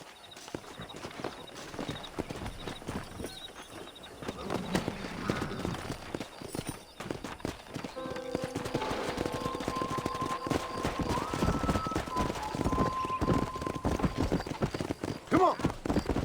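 Horse hooves clip-clop steadily in the Red Dead Redemption video game, a rhythmic trotting mixed with ambient game sounds and occasional distant gunfire-like pops.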